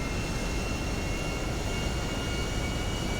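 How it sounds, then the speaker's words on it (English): A private jet in the game LSPDFR roars steadily as it barrels down the runway for takeoff, a dense, constant engine rush with a faint high whine, with no talking. "we just got clearance to take off, so we're going to start barreling down the runway."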